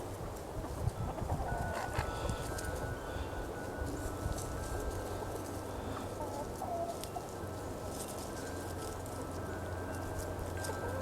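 Chantecler chickens, 19-week-old birds, cluck and murmur steadily outdoors, a soft continuous flock chatter with occasional sharper calls, no talking.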